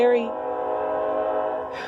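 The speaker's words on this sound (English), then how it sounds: "please excuse the train" A train passing nearby sounds its horn in a long, loud, steady sustained blast lasting nearly two seconds, with faint rail rumble underneath.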